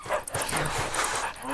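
Dog-like chickens from the video game CHKN make yipping, whimpering, dog-like calls, loud and close, mixed with game sounds.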